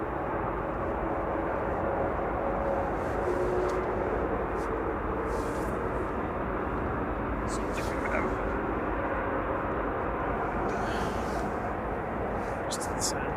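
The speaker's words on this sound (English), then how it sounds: "Right now, 3218 to Milan, departing now, EFI 737-800." A Boeing 737-800 jet departs Manchester Airport, its engine roar a broad, steady rumble heard at a distance, holding even and fairly faint across the whole stretch, with faint voices at times.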